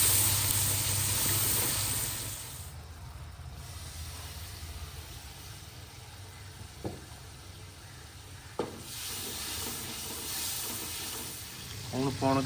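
Curry with salt and tomatoes sizzling in a cooking pot in a village kitchen, a steady frying hiss that fades and swells, punctuated by a few sharp clinks and scraping stirs, with a voice briefly talking over it.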